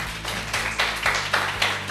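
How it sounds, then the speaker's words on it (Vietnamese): An audience at a company talk gives a short burst of hand clapping, steady and moderately loud, with a sustained musical tone beneath it. "Một tràng pháo tay"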